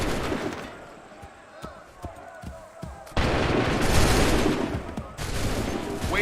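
Musket volleys crack out in Assassin's Creed III, several sharp separate shots followed by a dense, loud burst of massed gunfire with booming rumble, with commands shouted over the battle.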